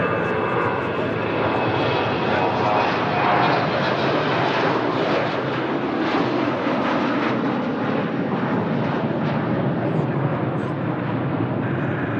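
A Ryanair Airbus A320-200 at Lisbon Airport makes a loud, sustained engine roar and rushing jet noise throughout, close and steady, with people talking underneath.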